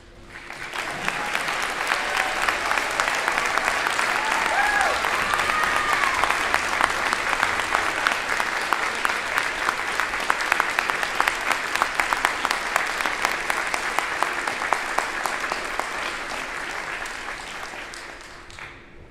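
A large audience applauds at a fall commencement ceremony as students, faculty and staff wearing red, white and blue cords stand, a long, full round of clapping that swells quickly, holds steady, then tapers off.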